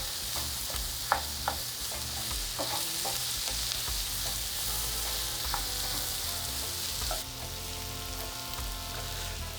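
Beyond Meat plant-based mince sizzles steadily in a hot pan while a utensil repeatedly scrapes and breaks it into smaller pieces, producing close, continuous frying with scattered sharp taps and no talking.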